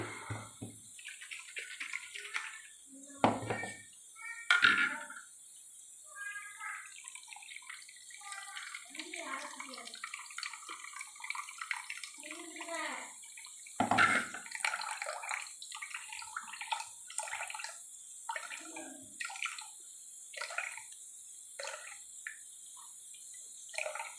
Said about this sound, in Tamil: இதோட ஒரு கிளாஸ் தண்ணி சேர்த்து வடிகட்டிக்கிடுவோம்.